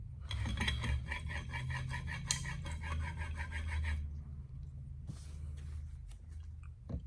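A woodworking tool blade is honed on a finer sharpening stone: rhythmic, close, gritty scraping strokes for about four seconds, then quieter scattered rubs and taps.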